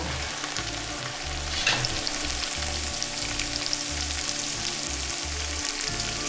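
Curry leaves sizzle and crackle in hot oil for mutton pulao, a steady close frying hiss broken by stirring scrapes, with no talking.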